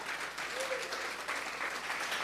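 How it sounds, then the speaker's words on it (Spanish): Congregation clapping in church during a Spanish-language service, steady dense applause filling the clip at moderate level, with a faint voice briefly audible underneath. "Fuerte esas palmas."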